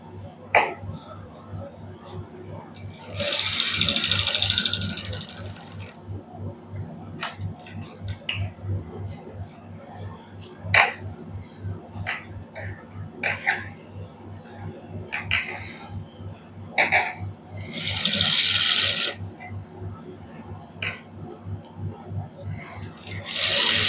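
Close by, a sewing machine stitches lace onto the neckline of a black suit, running in a steady, rapid low chatter through the whole stretch. Short clicks, a few brief hissy bursts and occasional vocal sounds from nearby break in over it.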